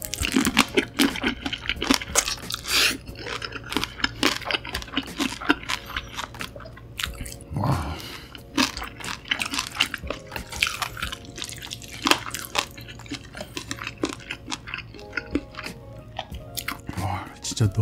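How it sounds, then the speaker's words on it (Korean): Close, wet chewing of a wrap filled with fried egg, with soft crunches and moist mouth sounds in an irregular rhythm, joined by brief talking. "계란후라이랑도 한번 싸서 먹어볼게요."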